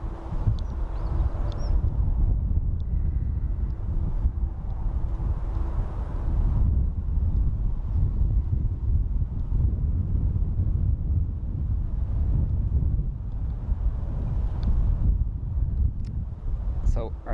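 Strong wind buffets a microphone outdoors at Dublin Airport on a day with a slight crosswind, giving a continuous low rumbling roar that runs the whole time, with a voice talking faintly underneath.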